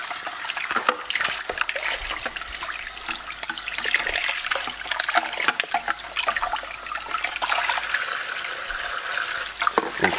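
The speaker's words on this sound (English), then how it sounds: "It's just a rinsing process with everything until it comes down to the screen or the sieve" Omega EUJ-707 juicer parts being rinsed under a running tap, with a steady splashing rush of water and small clatters of the parts throughout, close and continuous.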